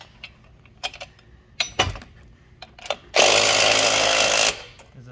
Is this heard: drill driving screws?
yes